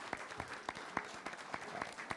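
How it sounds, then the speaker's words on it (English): Several rounds of clapping ring out at a Milford Board of Education meeting honoring swimmers, a moderately loud room of hands applauding in bursts without talk. "Let's give them a round of applause, please."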